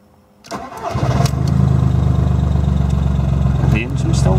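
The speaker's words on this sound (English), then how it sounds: "And I'll start the engine." A car engine cranks and catches, then settles into a steady, loud idle with a low rumble close by.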